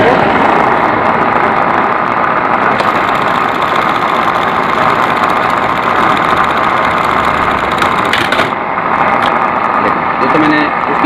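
A sewing machine stitches a buttonhole with loosened tension, giving a steady, dense mechanical whir that runs without a break and stays close and loud throughout.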